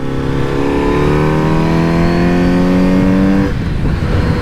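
A 2022 Kawasaki Z900 RS motorcycle engine revs up hard, its pitch climbing steadily for several seconds before cutting back abruptly, loud and close.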